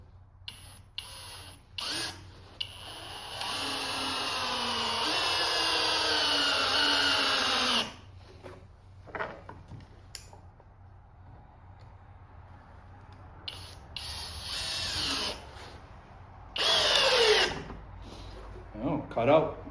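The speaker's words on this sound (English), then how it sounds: "Same compact flex drill." A Flex 1131 half-inch compact cordless drill bores into material at low speed, a long whining run that cuts off abruptly, then shorter bursts of drilling, with speech around the drilling.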